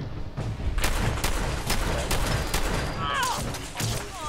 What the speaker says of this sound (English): Definitely like the combat rifle more.